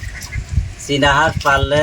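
Chinese ducks give a few loud, nasal honking calls close by, two drawn-out cries following some low scuffling.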